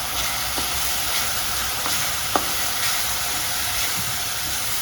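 Turmeric and red chili powder stirred into sizzling vegan sprouts curry for Kolhapuri misal, a steady close frying hiss with a few faint spoon taps throughout.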